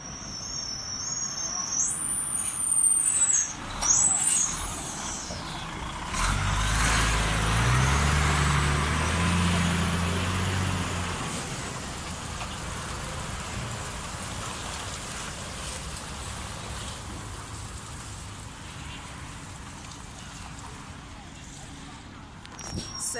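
Trucks carrying chickens drive into a poultry slaughterhouse, a loud rumbling vehicle pass swelling for several seconds and then fading into steady outdoor background noise, with people talking nearby.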